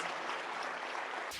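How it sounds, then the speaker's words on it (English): A round of applause from a seated leadership-training audience for volunteers, steady and moderately distant, with dense clapping throughout and no speech. "How about a round of applause for 4 bold folks who are willing to come over here and join us?"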